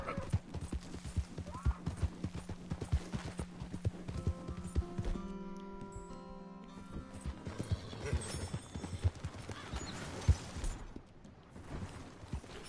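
Horse hooves clip-clop steadily in the Red Dead Redemption 2 video game, a dense rhythmic patter with a brief lull midway under game music and effects.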